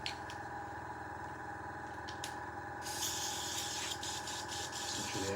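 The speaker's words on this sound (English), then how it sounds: "make sure the airbrush is cleared through" Airbrush spraying pro acrylic paint to clear it through, with a steady compressor hum that gives way to a louder, brighter continuous hiss partway through.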